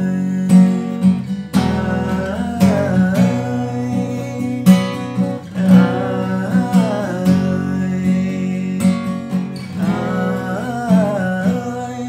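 Acoustic guitar strumming C5 and other improvised chords for the À ơi section of a song, with steady strums rising in loud rhythmic bursts, close and alone.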